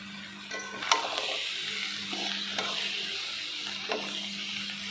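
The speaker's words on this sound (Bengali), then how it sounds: "সব একসঙ্গে কিন্তু ভালো করে মিশিয়ে নিলাম" A pan of egg chowmein made from stale roti with vegetables is stirred, with soft scraping strokes and light clinks over a steady sizzle and a faint constant hum.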